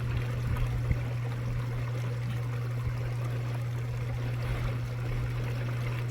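A small garden waterfall pours steadily into an outdoor pond, making a continuous close rushing and splashing wash over a low hum, with no voices.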